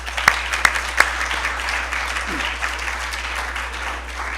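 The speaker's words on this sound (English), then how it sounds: "So I want to take just a second to say thank you and give them a round of applause." Audience at an award ceremony applauding steadily in a large room, a dense wash of clapping with a few sharper nearby claps early on and a constant low hum underneath.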